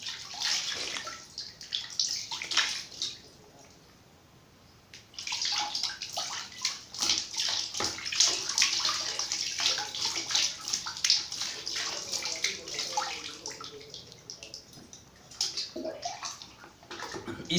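A lota dips into a bucket and water pours and splashes in a bathroom, in close, loud rushing bursts with a short quieter pause, and no talk.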